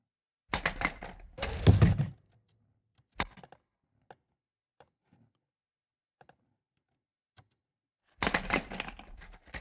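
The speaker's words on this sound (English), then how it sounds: "So there's a couple of scooter drop sounds and the plastic bag rattling or shaking." A scooter is dropped with sharp, loud clattering bursts near the start and again at the end, separated by scattered faint clicks and rattles from a plastic bag being shaken.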